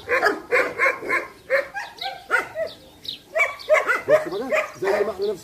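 A dog barks repeatedly in close, rhythmic bursts, some sounding strained or whimpering, loud and near, during a mating attempt between a female Saint Bernard and a male dog.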